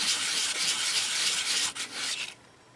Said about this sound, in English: See how black it is from the paint being sanded off.